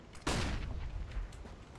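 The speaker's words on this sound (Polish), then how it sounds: "Deploying flashbang." Flashbang grenade detonating in CS:GO: a single sharp, loud bang early on, followed by a short ringing, rumbling decay under faint background game noise.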